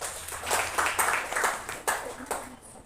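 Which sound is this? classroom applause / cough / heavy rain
classroom applause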